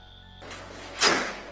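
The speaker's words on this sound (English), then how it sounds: "we can hear the door closing" A door closes with a single soft thud about two-thirds of the way through, after a faint steady hum and brief noise.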